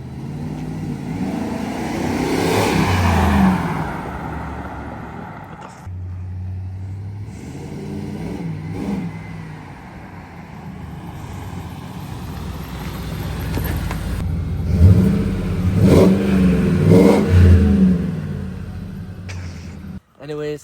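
A 2001 Ford F-150 pickup with a 5.4 V8 and Flowmaster exhaust driving down a street, deep rumbling engine rising and falling through several accelerations and gear changes, loud and near, with bursts of throaty revving.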